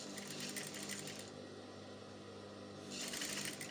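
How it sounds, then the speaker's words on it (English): Sewing machine running fast along the folded edge of fabric while stitching a rolled hem on a circle flare skirt, a steady close whirring with louder bursts at the start and end and a softer stretch in between, no talking. "then you sew at the edge of the fabric like so"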